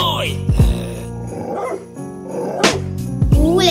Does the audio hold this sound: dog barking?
yes